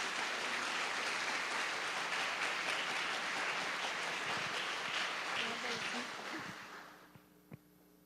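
A church congregation claps loudly and continuously for several seconds during a worship service, then the applause fades away, leaving a quiet room with a few faint knocks.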